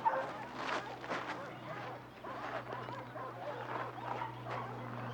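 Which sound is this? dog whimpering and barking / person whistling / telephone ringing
dog whimpering and barking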